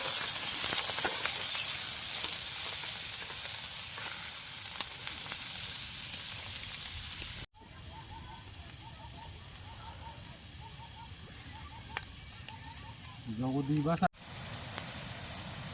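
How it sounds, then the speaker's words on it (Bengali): Carrots and capsicum sizzle in hot oil in a pan for fried rice, a steady close hiss of frying that continues throughout with a few sharp cuts and brief clinks midway. "গাজরগুলো ভেজে ফ্রাই করে নেবো, কারণ ফ্রাইড রাইসের জন্য ভেজে নেওয়া হচ্ছে।"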